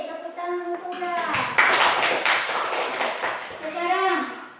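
Pupils in an Indonesian primary classroom burst into a few seconds of lively applause mid-lesson, fairly close and loud, with children's voices chattering before and after the clapping.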